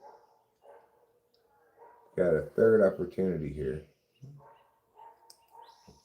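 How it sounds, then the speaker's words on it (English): A neighbour's dog barks a quick burst of several loud, close yaps while greeting visitors next door, between stretches of someone speaking during an afternoon baseball broadcast. "the dog greeting the visitors next door"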